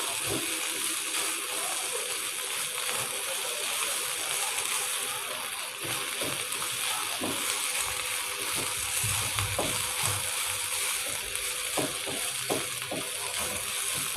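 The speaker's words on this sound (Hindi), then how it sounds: "इसको 1-2 मिनट के लिए ऐसे ही फ्राई कर लेते हैं।" Onions softened in oil, frying a minute or two longer for a qeema kachori filling, produce a quiet continuous sizzle and crackle with occasional soft stirring clicks and faint background voices.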